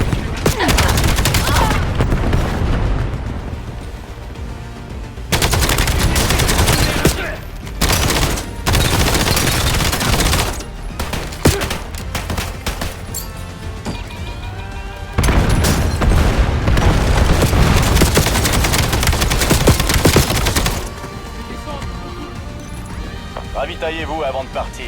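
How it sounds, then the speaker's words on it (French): Call of Duty Black Ops 7 zombie prison escape combat: loud bursts of cluster grenade explosions and rapid gunfire in dense stretches, broken by short quieter gaps, with game voices speaking over the action. "Balance les grenades à dispersion."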